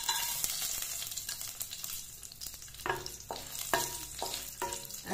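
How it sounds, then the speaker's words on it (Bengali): Whole garam masala sizzles and spits in hot oil in a pan, a close crackling fry with several sharp, rhythmic stirring scrapes toward the end. There is no talking. "তেল গরম হয়ে গেছে, এবার তেলে আমি একে একে এগুলো সব দিয়ে দেব। প্রথমে দিলাম গোটা গরম মশলা,"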